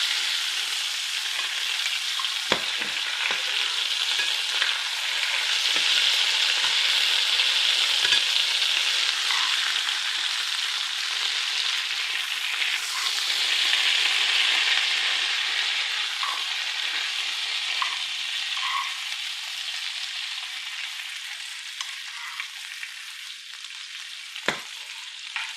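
Liver sizzles steadily in butter in a pan, a broad continuous hiss with occasional sharp crackles and pops, loud at first and easing slightly toward the end, with no voices over it.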